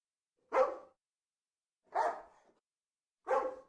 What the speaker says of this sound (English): it plays the bark sound